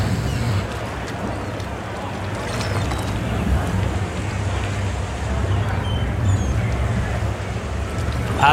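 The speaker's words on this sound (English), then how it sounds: "Substitute boat." A boat moving on open water, with a steady low rumble and broadband wash of water and wind running evenly throughout, moderately loud and close, with no clear voices.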